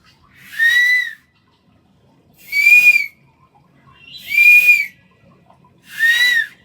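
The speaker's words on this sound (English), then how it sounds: "you blow across it. Don't blow into it. You blow into it, you get nothing. Blow across it, like the panpipe" Four breathy, hollow whistling tones, each lasting about a second with pauses between, like air blown across the mouth of a pipe. No talking.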